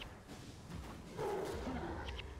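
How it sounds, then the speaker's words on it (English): A white tiger in the game Guild Wars Factions lets out a low, rumbling roar that swells midway through and lingers for a second or more, sitting over a busy bed of game combat noise. "Hearing that white tiger's roar."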